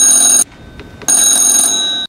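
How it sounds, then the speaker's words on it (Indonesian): Telephone ringing inside a house: two loud, close electronic ring bursts separated by a short silent gap, the second ring lasting longer before it cuts off abruptly. "ucap Leopold, tiba-tiba telepon berdering."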